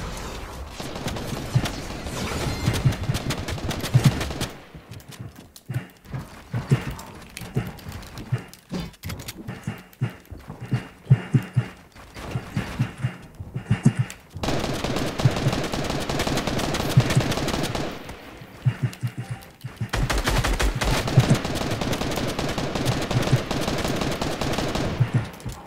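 Fortnite played on mobile with a controller: long stretches of rapid, clattering automatic gunfire broken by short pauses and sharp single shots, steady and close throughout.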